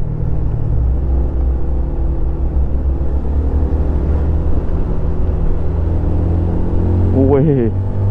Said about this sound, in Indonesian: Wih, truk gandengan nyalip.